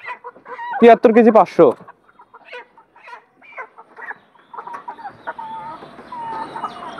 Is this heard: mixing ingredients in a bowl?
no